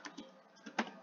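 Soft keystrokes on a computer keyboard tap out a few scattered clicks, faint and close, with short gaps between presses.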